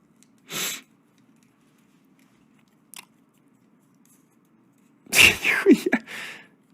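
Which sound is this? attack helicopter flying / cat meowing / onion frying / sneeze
sneeze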